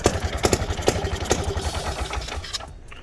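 Small mini bike engine running just after a pull start, a loud, close, rapid buzzing putter with uneven pulses that stays steady before easing off near the end.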